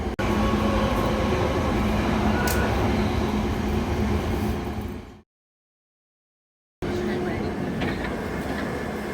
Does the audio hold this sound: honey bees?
no